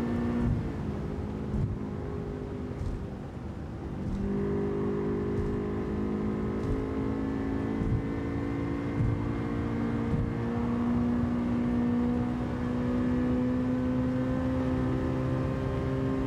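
A Honda Civic engine in Gran Turismo 7 revs with a steady tone that climbs slowly and holds high. It has a brief dip early on and plays alone without voices.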